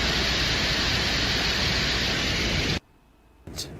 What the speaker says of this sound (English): You can hear what sounds like eerie white noise or static in the background and the gentle blow of the Venusian wind